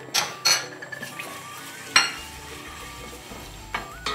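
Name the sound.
garlic frying in oil in a pan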